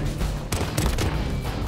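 Renetti burst pistol firing in Call of Duty: Modern Warfare, a few sharp, loud, close shots in quick bursts set over dense game ambience.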